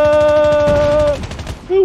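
Gunfire in Call of Duty Mobile, aimed at a UAV: a loud, fast rattle of automatic shots that runs for about a second under a steady tonal game sound, then tapers off.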